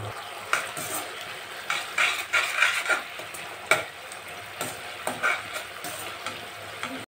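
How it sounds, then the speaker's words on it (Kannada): Leftover rice being mixed into tamarind gravy in a pan: a spoon scrapes and clatters against the metal in uneven bursts over a faint steady sizzle, close by and fairly loud. "ಅನ್ನ ಹಾಕಿ ಮಿಕ್ಸ್ ಮಾಡ್ಕೊಳ್ಳೋಣ."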